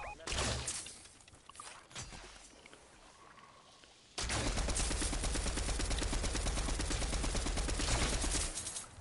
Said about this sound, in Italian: Ma stai sparando tu?